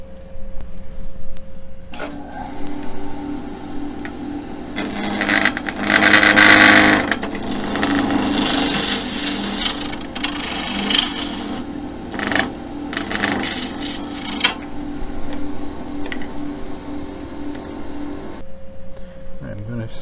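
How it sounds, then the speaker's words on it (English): A wood lathe turns down a file handle blank, a continuous rough scraping and rubbing hum of tool on spinning wood running steadily for most of the stretch, with a quieter start and end as the cut begins and stops. "now we're going to turn down the rest of the piece so that we can shape the handle"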